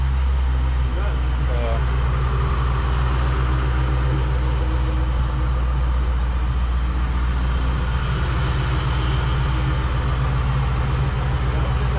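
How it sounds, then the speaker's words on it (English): A 1998 Mustang Cobra V8 idles with a deep, steady rumble, loud and close, running evenly for the full stretch with no revving. "Even the idle sounds right."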